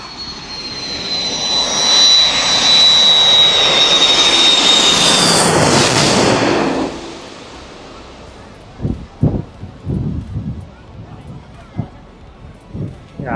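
A large airliner roars overhead as it comes in to land in Taipei, growing louder and passing close before fading, followed by wind buffeting and scattered voices.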